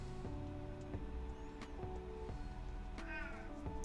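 A cat meows a few times, distinct short calls over a background of steady tonal music with shifting notes.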